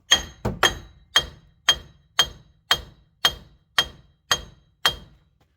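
A hammer strikes a front wheel bearing on a 2011 Dodge Grand Caravan in eleven sharp metallic taps, evenly spaced about half a second apart, each ringing briefly, loud and close with no talk.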